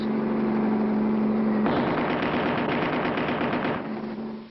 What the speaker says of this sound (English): How can Clutch and Fargo avoid being hit by gang bullets?